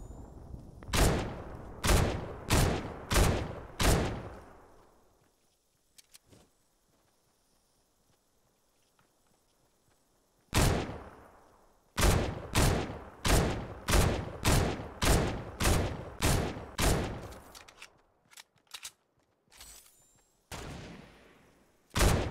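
Bursts of submachine-gun fire in Fortnite crossplay squads, loud sharp shots in rapid runs of five or more, separated by a quiet pause, then longer volleys and a few scattered single shots.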